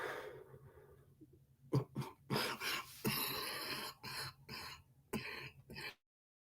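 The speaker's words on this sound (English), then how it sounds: "one of the like real dry coughs where like you feel like you can't ever catch your breath again" A harsh dry cough comes in a burst of several hacking fits with short gasping breaths between them, close and fairly loud, ending in abrupt silence.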